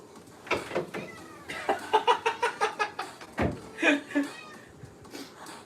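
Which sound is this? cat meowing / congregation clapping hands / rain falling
cat meowing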